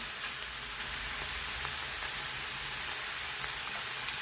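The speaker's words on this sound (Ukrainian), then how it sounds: "І от зараз я перемішую" Young potatoes and button mushrooms frying in a pan make a dense, continuous sizzle, loud and even from start to finish, with no voices over it.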